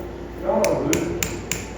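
A farrier hammers horseshoe nail clinches at a winter clinic demo, giving a few sharp metallic taps spaced about a third of a second apart, close and ringing over a low background hum.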